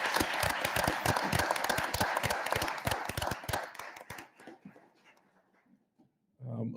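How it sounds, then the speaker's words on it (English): People at a village board meeting in Dolton clap in sharp, distinct strokes that thin out and die away over several seconds. A short pause of near silence follows, then a voice begins speaking. "ask everybody to give a round of applause to the employees for the Village of Dolton"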